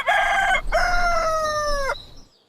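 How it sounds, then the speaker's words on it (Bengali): A rooster crows once on a foggy village morning, a loud, close cock-a-doodle-doo with a brief break near the start and a long sustained tail fading out, with no one speaking. "মুরগির ডাক শোনা যাচ্ছে।"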